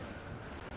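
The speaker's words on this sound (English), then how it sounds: "That wind's trouble, Captain Cormac." Wind howls at sea aboard a sailing ship in Assassin's Creed Rogue, a dense steady roar of gusts and surf in a brief, fairly loud burst with no voices.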